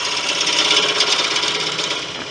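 Detail gouge cutting the carrot-nose end of a 14-inch natural teak snowman spinning on a wood lathe, a continuous close-up rasping scrape holding steady throughout.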